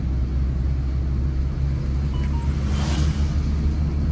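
A car engine rumbles steadily from inside the cabin during a driving lesson as the car speeds up, a continuous low drone at an even, fairly loud level.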